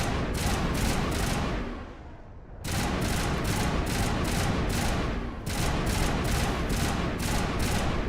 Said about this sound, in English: I just hate that it's triple fire and not either automatic or semi-automatic.